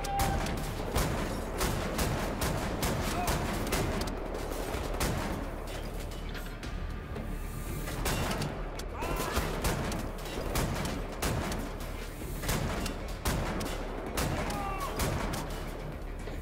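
Shotgun blasts and combat gunfire in Wolfenstein: The New Order, with repeated sharp loud reports over a constant dense battle din and scattered impacts, alongside someone talking intermittently.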